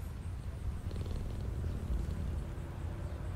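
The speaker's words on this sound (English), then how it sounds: "Pet the cat." Low, steady purring from a cat being petted in the video game Five Nights at Freddy's: Into the Pit, soft and continuous, a quiet rumble without any talk over it.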